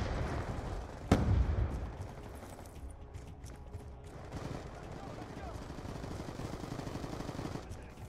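Gunfire in the Call of Duty Black Ops video game: one sharp, loud shot or blast early on, followed by sustained rapid bursts of automatic fire rattling on and off in the background.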